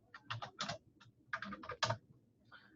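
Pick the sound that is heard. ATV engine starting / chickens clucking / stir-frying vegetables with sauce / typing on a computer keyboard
typing on a computer keyboard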